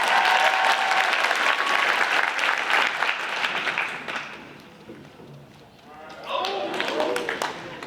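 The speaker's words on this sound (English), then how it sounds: "Y'all give Pace a round of applause." A crowd at a United Way campaign kickoff applauds a contestant, with dense clapping and cheers for about four seconds, then a quieter dip and voices.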